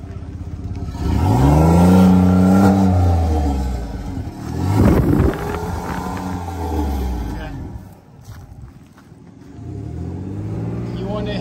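A truck engine revs repeatedly in deep rumbling surges during an exhaust inspection, rising and falling several times with pauses, close by and loud, with people talking over it.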